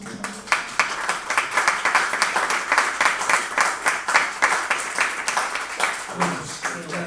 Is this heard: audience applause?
yes